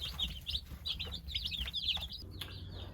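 Thirty day-old chicks in a brooder under a heat lamp, a busy chorus of high, rapid peeping and cheeping close by over a low background hum.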